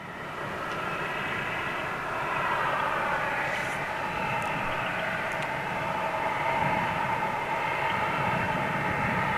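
A jet airliner's number 2 engine spools up at Manchester Airport, a continuous fairly distant hum and whine holding steady throughout, with no talk.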